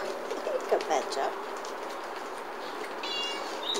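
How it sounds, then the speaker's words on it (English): A blackbird sings in a quiet garden, with soft fluting phrases early on and a clearer trill toward the end over faint outdoor background noise. "You've got a blackbird singing."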